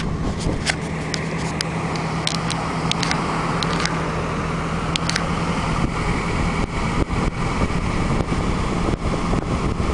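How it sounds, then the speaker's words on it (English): A 1991 Nissan Hardbody pickup idles with its engine fan running, a steady broadband rush of air and engine hum heard up close, with a few faint clicks and no talking. "lot of wind from that fan right there."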